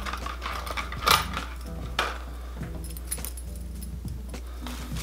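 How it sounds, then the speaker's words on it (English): Plastic packaging of a Chatterbait bladed jig fishing lure with a big hook is torn and cracked open up close, giving a few sharp crinkling and rattling bursts over a low steady hum. "Let's go ahead and just crack one open."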